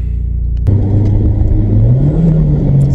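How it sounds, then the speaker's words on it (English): A car engine with a faulty automatic gearbox over-revs on a drive, its loud droning pitch climbing steadily and holding high without a gear change, close and continuous under road rumble, with no voices. "It's over revving again."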